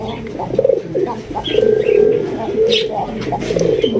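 Pigeons coo repeatedly in soft, throaty rolling calls, close by and fairly loud, with some chirping and background voices mixed in.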